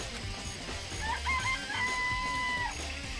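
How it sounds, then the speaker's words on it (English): A rooster crows in the middle of a short stretch, with a rising, held call sitting over steady low background noise and a few clucks; no talking. "The chicken!"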